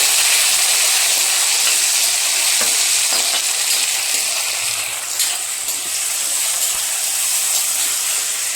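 Ingredients for ustikaya pickle sizzle and hiss steadily in a hot pan, a loud close frying sound with occasional stirring scrapes, no voices.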